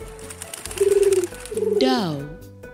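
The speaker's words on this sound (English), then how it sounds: "Dove." A dove coos in a soft, throaty rolling call that rises and then falls, heard over light background music in a children's alphabet recording.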